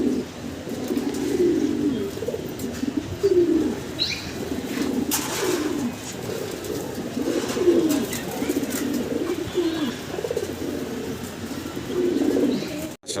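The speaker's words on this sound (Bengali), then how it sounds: "এই দেখেন খুব চঞ্চল কবুতরগুলো ছোটাছুটি করতেছে" Pigeons in a loft at a farm in Mirpur 12, Dhaka, coo in steady repeated rounds while wings flap now and then as the restless birds move about, close and fairly loud, with no talk.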